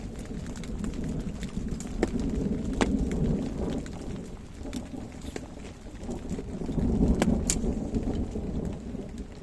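Steady rain pours down during a thunderstorm beside a Fenland drain, with a continuous dense hiss, occasional sharp crackles and low rumbling swells of thunder.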